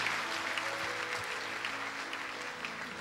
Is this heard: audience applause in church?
yes